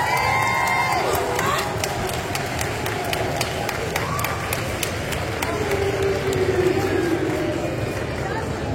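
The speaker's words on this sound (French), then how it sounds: "je vous demande un tonnerre d'applaudissements pour Joe Flanagan" Crowd at the Paris Manga convention applauding and cheering for actor Joe Flanigan, sustained dense clapping with shouts and whistles throughout, loud and close.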